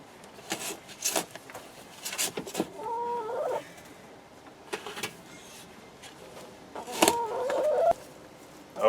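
Chickens in a backyard chicken run, stirred up while compost is being turned, give off short scattered clucks and squawks over an outdoor background, with a couple of louder calls near the middle and the end.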